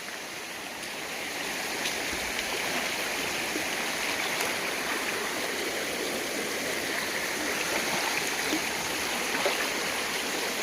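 A forest creek in North Carolina rushes steadily over rocks, a continuous, even wash of flowing water heard up close with no voices.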